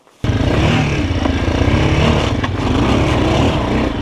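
A Chinese enduro motorcycle, a Forte CBA 250 or Hornet Dakar Pro, roars up a hill, its engine bursting in suddenly and loudly, then revving hard and unevenly with clattering as it climbs.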